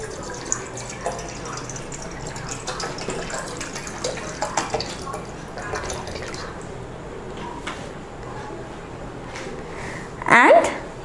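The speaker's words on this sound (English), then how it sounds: "I'm going to pour water." Water poured into a vessel for a sponge absorption experiment, a soft trickle under a voice speaking for most of the span, ending in a brief louder splash near the close.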